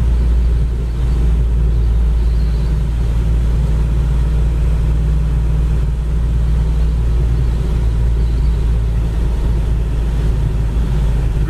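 A 1964 Chevrolet Nova with a 700R4 four-speed automatic cruises along the road at around 2200 rpm, giving a steady, loud low engine drone and road rumble that holds even throughout, with no talking.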